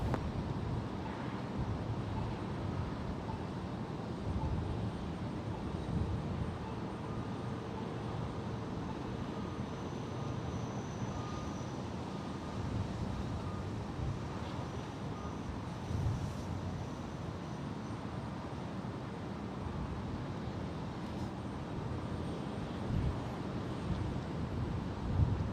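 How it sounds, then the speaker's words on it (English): A Beechcraft King Air 350 twin-turboprop on short final approach to San Jose International Airport makes a faint, steady broadband drone that holds level throughout, with light wind rumble mixed in. "On short final is a Beechcraft King Air 350 coming in for Burbank"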